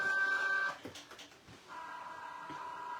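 A vinyl cutting machine loads a sheet of heat transfer vinyl, giving a steady electronic motor whine that stops, then a few clicks and shuffles before the motor hum resumes as it measures, close and with no talk.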